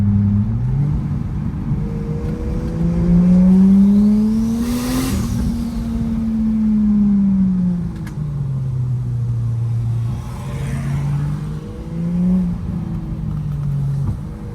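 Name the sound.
turbo Lexus GS300 sports sedan driving on back road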